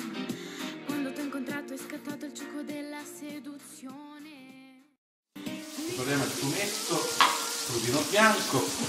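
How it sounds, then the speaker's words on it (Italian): Unpeeled garlic cloves fry and sizzle in a pan with parsley, a steady crackle under kitchen talk that briefly drops out and then returns more loudly. "Lo facciamo sì, cucinare un po' l'aglio in camicia."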